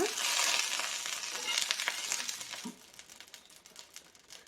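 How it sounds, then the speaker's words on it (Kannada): Butter melting and sizzling on a hot tawa while bread masala is made: a steady close hiss and crackle that fades to quieter spitting pops toward the end. "ಇವಾಗ ಪ್ಯಾನ್ಗೆ ಸ್ವಲ್ಪ ಬೆಣ್ಣೆನ ಹಾಕ್ಕೊಳ್ಳೋಣ"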